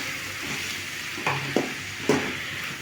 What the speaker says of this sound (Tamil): அடுத்து ஒரு வதக்கணும்.